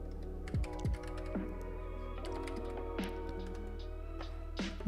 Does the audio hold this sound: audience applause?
no